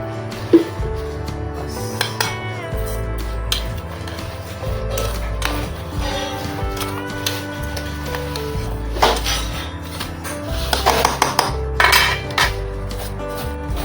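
A spoon clinks and scrapes against a metal pot while sugar syrup for an oil-free lemon pickle is mixed, producing irregular close-up knocks and rattles over a steady low background.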